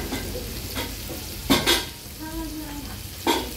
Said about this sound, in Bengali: ভাজার কাজ চলছে